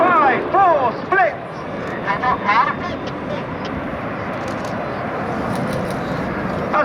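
Red Arrows display jets flying the 5-4 split manoeuvre at an air show, a broad steady roar of distant jet engines filling the air, with brief public-address chatter over it early on.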